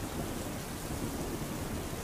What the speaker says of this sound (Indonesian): Hujan terdengar seperti gangguan white noise saat mengguyur mobil